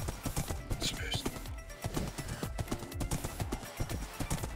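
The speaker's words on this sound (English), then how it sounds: "Aria just called the horse Miranda." Horse hooves clip-clop in a Minecraft game, a quick irregular run of hollow clicks and knocks over several seconds, with voices chatting over them.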